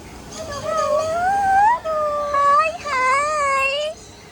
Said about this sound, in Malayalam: കണ്ണൻ ചേട്ടൻ ഒരു പട്ടിക്കുട്ടനെ അന്വേഷിച്ച് നടക്കാം.